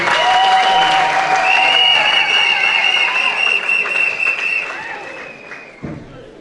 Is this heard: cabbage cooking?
no